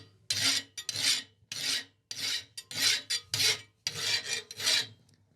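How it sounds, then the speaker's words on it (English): A rasp files the reins of hot steel wolf jaw tongs in about ten quick, rough scraping strokes with brief pauses between them, close and fairly loud. "we're just going to take that off quickly with a rasp"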